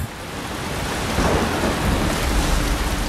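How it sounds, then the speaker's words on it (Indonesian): A heavy rainstorm roars loudly and continuously, dense rain and gusting wind building slightly in intensity, with no voices. "Suatu malam, hujan turun disertai angin kencang"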